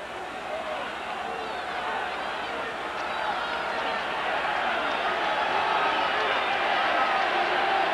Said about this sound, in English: this crowd hasn't let up all night.